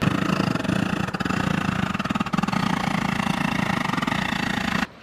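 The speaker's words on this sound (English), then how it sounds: "they bring this huge machine and start drilling holes in the area they want to dig" A loud road-drilling machine pounds continuously with a rapid, rattling pulse under its engine drone, then cuts off abruptly at the end.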